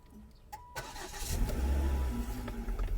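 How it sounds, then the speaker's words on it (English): A Volvo C30's engine cranks and catches after a couple of faint clicks, then settles into a steady, close low rumble of idling. "Start the vehicle."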